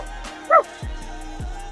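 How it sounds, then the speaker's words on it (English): A coyote pup out in the wild near a lake island gives a short, sharp high yip around mid-clip, with a few low thumps and faint background noise, no talking. "This pup, coyote, was out on an island 100 yards from the actual"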